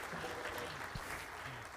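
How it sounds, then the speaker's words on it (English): Church congregation clapping after a reading, a soft, steady patter of applause heard from a distance, with no voices over it. "Let's clap for that reading if we could."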